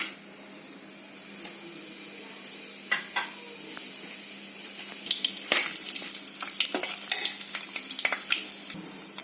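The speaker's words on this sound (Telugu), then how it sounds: "ఆయిల్ హీట్ ఎక్కింది, సో హోల్ స్పైసెస్ అన్ని యాడ్ చేస్తున్నాము." Whole spices sizzling in about three tablespoons of hot oil for a coconut milk pulao, a bright crackling hiss that builds into busy popping and spattering, with occasional utensil knocks.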